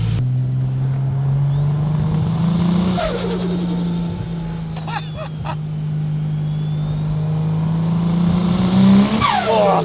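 A Datsun 240Z running a turbocharged GT-R six-cylinder revs hard through the gears, loud and close, with rising whines, shift breaks and a turbo flutter between pulls.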